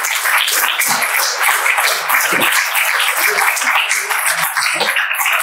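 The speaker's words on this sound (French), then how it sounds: "je pense qu'on peut applaudir Daniel sur..." Audience at a corporate conference applauding after a presentation, a continuous patter of many hands clapping, fairly close and steady for the whole stretch.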